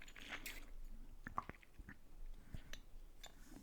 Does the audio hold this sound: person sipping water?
yes